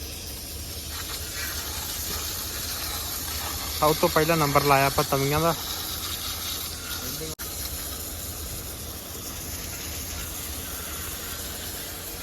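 Steady hissing water spray washing muddy farm implements runs throughout, with someone speaking over it for a couple of seconds midway.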